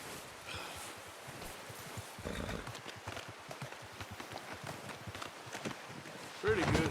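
Horse hooves clop softly in Red Dead Redemption 2 during a deer hunt, quiet irregular footfalls with light rustling, then a louder snort-like burst near the end.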